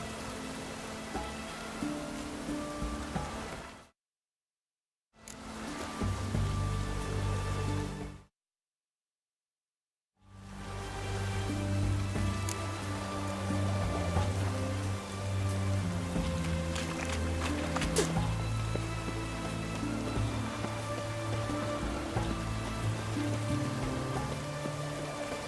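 Steady rain falls in The Witcher 3 around Oxenfurt, a continuous wash of pattering drops over soft ambient game music, with two short gaps of silence near the start.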